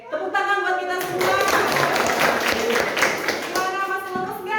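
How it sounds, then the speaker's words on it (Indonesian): A class of students clapping hands together in a room, a dense burst of claps building after the first second and continuing steadily for several seconds, with voices mixed in. "tepuk tangan buat kita semua"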